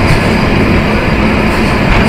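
The Madhumati Express, a Bangladeshi intercity train run by West Zone Railway, rushes past very close, a loud, dense, continuous roar of wheels and carriages with no voices.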